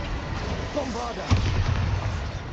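A Bombarda blast spell explodes in Hogwarts Legacy, a muffled booming burst with crackling rumble that lingers briefly, heard alone at moderate loudness.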